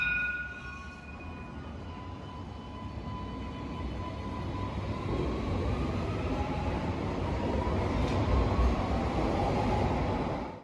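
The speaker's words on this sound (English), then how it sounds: "When this tram departs" An Alstom Citadis tram pulls away on the Sydney Light Rail Dulwich Hill line, with a steady rumble and a rising motor whine that swells over about ten seconds, close by and with no one talking.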